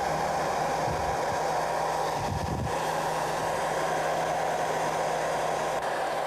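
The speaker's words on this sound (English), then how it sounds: "We also are going to need to use the hairdryer again." A hair dryer blows steadily, used to heat and wet out composite tapes during aircraft composite construction, a loud, continuous whooshing hum with a couple of brief handling knocks, and no talk over it.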